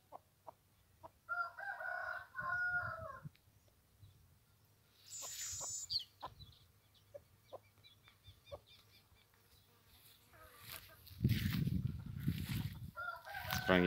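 Free-ranging chickens in scrubby woodland give scattered clucks and cackles, with a rooster crowing and insects buzzing, all at moderate distance with a louder rustle near the end.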